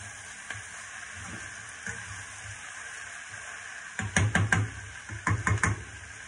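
Potatoes frying in a pan, a faint steady sizzle that turns into a few bursts of scraping and stirring toward the end.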